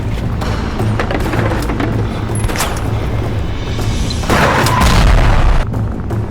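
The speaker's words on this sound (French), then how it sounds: "Des explosifs." Explosives set off by a remote detonator let out a loud, sustained rumbling boom that swells again partway through, with a dense low roar and no voices.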